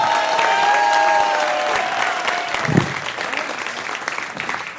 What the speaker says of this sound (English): Ladies and gentlemen, clap it up for your host for the evening